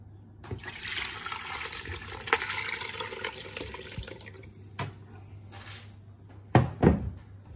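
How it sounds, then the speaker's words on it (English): Juices from stewed meat are strained, a soft liquid pouring and trickling sound with faint drips and a few clinks near the end. "And then you strain all the juices."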